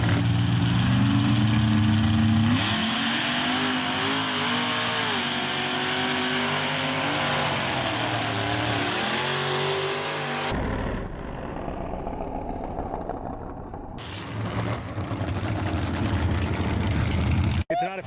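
Ford and Chevy mega trucks racing, a loud sustained engine roar with rising and falling revs, a sudden cut to quieter rumbling with a voice talking, then engines surging again.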